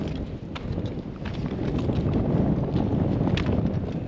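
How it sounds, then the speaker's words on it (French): Strong wind buffets a Pyrenees mountain ridge, roaring steadily and rumbling low against the microphone for the whole stretch, with a few faint clicks and thumps in between. "Ça souffle là."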